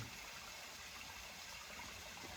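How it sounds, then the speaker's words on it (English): A mountain brook on Bromley Mountain flows in a steady, faint broadband rush of water, continuous and even with no voices. "It's so amazing just listening to that brook"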